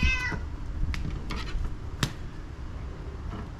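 A cat meows in a kitchen, a few short close calls at the start followed by light clicks and faint knocks, with no talk.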